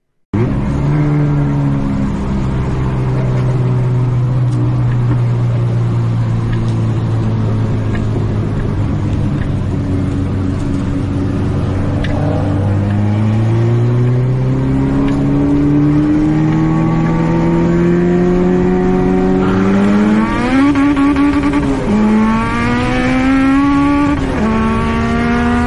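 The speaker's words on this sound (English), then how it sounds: "full-fledged Honda Civic race car hatch versus a Camaro" A full race-prepared Honda Civic hatchback and a bolt-on fifth-generation Camaro street race: a loud, close, continuous engine roar climbs in pitch through repeated gear changes, with the rising whine growing sharper toward the end. No one speaks.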